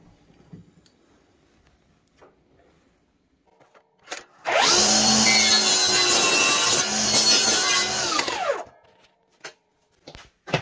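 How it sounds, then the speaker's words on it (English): A mitre saw set to 45 degrees spins up and slices through a length of architrave in a single loud, close burst of about four seconds, then winds down into a quiet workshop with a few faint knocks. "I set my mitre to a 45 degree angle and cut my mitre"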